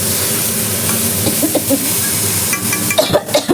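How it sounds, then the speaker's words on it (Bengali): Fish frying in hot oil in a home kitchen pan, with a steady close sizzle throughout and a few louder crackles and spatters near the end. "এদিকে মাছ ভাজতে দিয়েছি মাছ ভাজা হচ্ছে"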